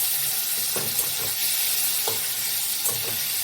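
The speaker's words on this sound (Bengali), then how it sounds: "এবার কুচানো পেঁয়াজটা দিয়ে দেবো" Chopped onion goes into a pan of fried potatoes and sizzles steadily, with a few soft scraping knocks of a spatula spaced through the frying, close and continuous, no talking.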